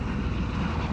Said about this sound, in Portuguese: o cara do helicóptero é corajoso, porque olha quanto baixo ele tá passando